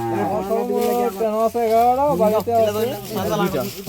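A cow on a cattle farm moos in long, wavering calls, loud and close, with a brief pause between calls.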